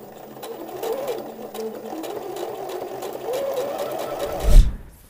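A sewing machine runs steadily while stitching a shirt sleeve seam around a curve on a men's shirt, a close, even whirring that stops abruptly with a thump near the end.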